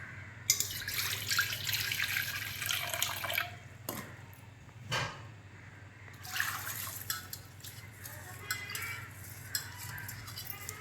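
Running tap water gushes into a sink while chicken is washed for a ragi sankati meal, heard as close splashing and trickling with brief pauses and clattering handling sounds throughout.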